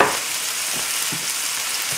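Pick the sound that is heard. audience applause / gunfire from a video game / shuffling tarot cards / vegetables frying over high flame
vegetables frying over high flame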